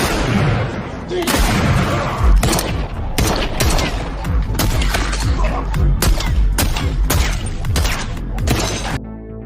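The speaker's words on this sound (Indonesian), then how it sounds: "kedua kubu pun saling terlibat baku tembak" Heavy gunfire from a film shootout, with sharp loud shots and bursts cracking out in quick irregular volleys over a dense rumbling background, continuing almost throughout.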